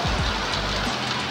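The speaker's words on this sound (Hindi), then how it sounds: "वर्षा आरंभ हो" Steady rainfall beginning during a hot kalbaishakhi-season evening, a dense broadband hiss of drops spread evenly throughout, with a few low rumbling thumps at the start.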